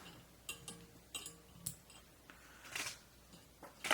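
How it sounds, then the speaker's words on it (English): Scissors trimming thread while tying a caddis trout fly, a few small close snips and clicks spread over a quiet background. "I'm gonna secure that down, trim that out."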